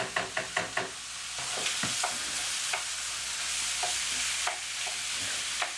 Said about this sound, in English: while them chickens are just searing up